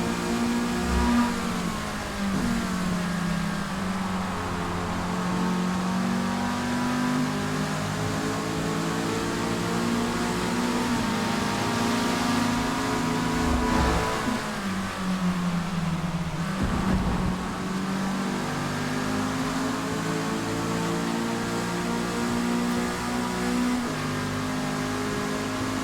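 A Mazda Miata race car in Forza Motorsport 4, racing at Laguna Seca, is driven hard, its engine droning and revving continuously with rising and falling pitch through gear changes over a long stretch.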